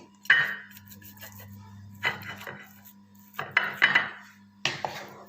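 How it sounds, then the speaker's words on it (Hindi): Clattering bursts as cooked resha kabab filling is moved off the stove into a pot, with several separate clinks and scrapes of utensils against cookware under a low steady hum. "अब हम चूल्हा जो है वो बंद करते हैं और इसको निकालते हैं एक बर्तन में"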